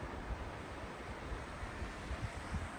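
Water of Deep Creek, seen from the Rainbow Bridge on the Pacific Crest Trail, cascades over rocks as a steady broadband rush, a soft continuous roar with no talking.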